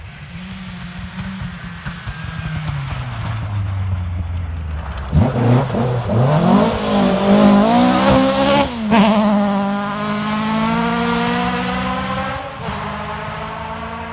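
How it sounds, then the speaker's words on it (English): A rally car on the Pirelli International Rally stage approaches a chicane, its engine loud and near, revving and dropping through gear changes with rising and falling tones, then holding a strong steady drone as it powers away. "Just let you listen to the next car coming into the chicane and the lovely sound of these cars."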